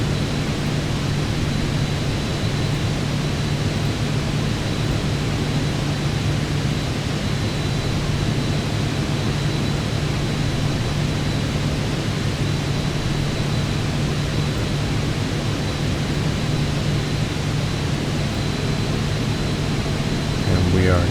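Steady cabin drone of a small fixed-wing airplane in flight near Tromsø, Norway, heading back toward the airport, a constant broadband roar with a low engine hum holding level throughout, close and loud.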